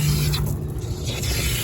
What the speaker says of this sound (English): help spray some of the dust down or get them sticky